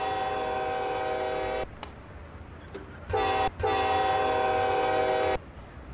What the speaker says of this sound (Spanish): Y vamos a tocar la bocina.